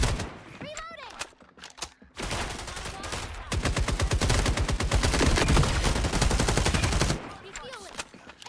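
Rapid automatic gunfire in the shooter video game FragPunk, dense bursts of close, loud shots rattling for several seconds amid earlier scattered shots, with a voice speaking at the start and end.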